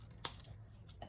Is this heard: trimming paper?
yes